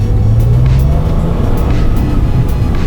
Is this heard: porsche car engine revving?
yes